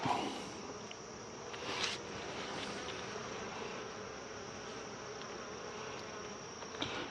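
Honeybees hum in a steady, dense buzz close by at an open hive in mid August, with occasional louder passes of individual bees bouncing off hands near the listener.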